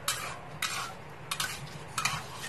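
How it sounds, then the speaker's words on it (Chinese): Raw peanuts stir-fried in oil in a wok, with four bursts of scraping and rattling from a utensil against the pan over a steady low sizzle, close and moderately loud. "把花生米炒熟"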